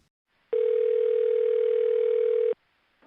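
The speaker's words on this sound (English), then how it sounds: "just about that time the phone rings" Telephone sounding one steady tone, about two seconds long, alone and clear against silence.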